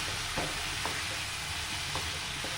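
Chopped spinach stir-fried in a pan, a steady hiss of sizzling oil with a few soft scraping stirs of the spatula, close and continuous with no talk.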